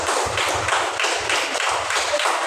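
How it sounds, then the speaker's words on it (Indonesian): A classroom of students claps for a group presentation, a burst of quick, uneven clapping with some thumping taps, fairly close and sustained briefly. "Iya, kasih tepuk tangan."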